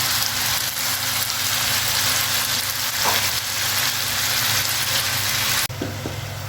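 Mixed vegetables with salt sizzle and fry in a pan over a medium flame, a steady close crackling hiss that continues throughout and shifts briefly near the end, as if the pan is stirred or moved.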